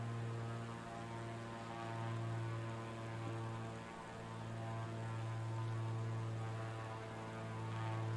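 In a VR flight simulator, the engine of a heavy propeller aircraft drones on steadily, a low humming whir that dips briefly midway and then holds level, with no voices.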